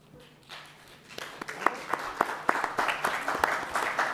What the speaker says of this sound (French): vous aurez eu, des applaudissements ce soir.